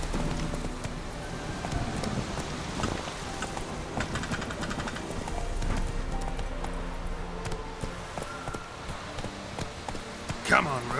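Roach, a horse in The Witcher 3, gallops with a steady rhythmic clip-clop of hooves under frequent spoken dialogue and background game sounds.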